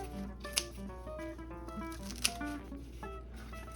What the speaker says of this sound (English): So I just trim off the excess leaves.